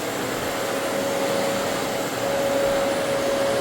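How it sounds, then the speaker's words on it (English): A vacuum cleaner sucks up dry soil during a floor screen and recoat job, a loud, constant roaring whine with a steady tone, heard close and alone throughout. "Eric just getting up that dry soil"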